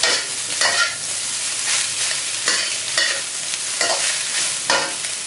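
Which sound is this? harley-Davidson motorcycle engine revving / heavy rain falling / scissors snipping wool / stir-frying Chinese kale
stir-frying Chinese kale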